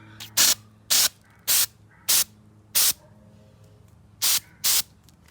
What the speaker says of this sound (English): trying to look at the branches and spray them at the same time